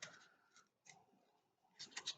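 Scissors cut paper petals for an ANZAC Day craft, producing a few faint, close snips and crisp scrapes separated by short quiet gaps, ending in a quick cluster of cuts.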